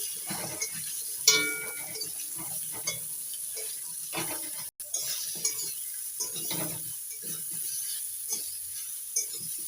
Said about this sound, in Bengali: আলু করে আলুগুলো লাল করে ভেজে নিয়েছি এবার দিয়ে দিচ্ছি পটল পটলগুলো একটু লাল করে ভেজে নেব